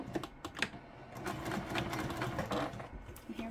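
A sewing machine stitches a quarter-inch seam along the long edge of a quilt piece, a quick steady chatter of needle strokes running close and continuous for a few seconds.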